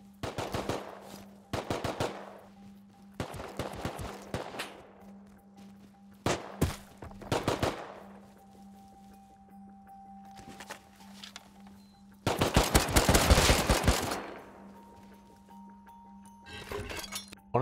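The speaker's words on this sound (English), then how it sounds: "that's when I heard some shooting" Gunfire in the video game Rust comes in repeated bursts of automatic fire and single shots at varying distances, with a steady low hum and quiet gaps between volleys and a long loud burst near the end.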